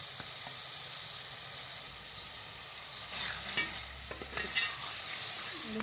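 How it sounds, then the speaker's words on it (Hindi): Masala sizzles gently in a pan, a soft steady fry with a few louder scraping stirs partway through and no voices. "मसाला अब हम भून रहे हैं, इसको 3 से 4 मिनट और भून लेंगे।"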